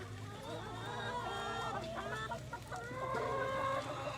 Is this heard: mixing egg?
no